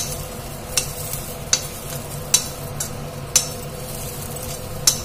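Sesame and coriander seeds roasting in a pan for a pickle, a soft continuous sizzle with regular sharp clinks of a spoon stirring against the pan every second or so, close up and without speech.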